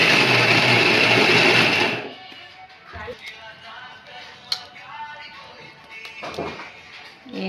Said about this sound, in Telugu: మళ్ళీ ఇది కలుపుకున్నదంతా మళ్ళీ మిక్సీ ఆడుకోవాలంట.